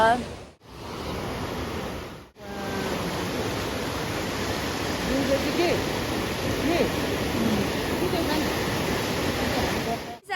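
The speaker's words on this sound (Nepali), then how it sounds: "यहाँ चाहिँ खोला रहेछ पछाडिपट्टि चाहिँ खोला छ" A steady broadband rush of flowing river water fills the scene, constant and fairly close, with no talking.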